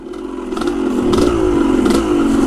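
A Roach tire spins hard on an overcast day, a loud, sustained engine drone that rises and wavers, with a sharp scraping crackle layered throughout.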